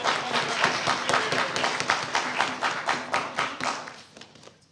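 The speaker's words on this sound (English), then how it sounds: "let's make a round of applause for all the viewers" An audience at a debate championship breaks into lively applause, many hands clapping in a dense, rhythmic patter close by that slowly tapers off near the end.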